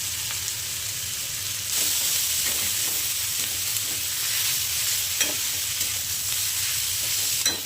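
Whole spices sautéed in oil for misal, a continuous loud frying sizzle with occasional stirring clicks and scrapes, close up with no voices.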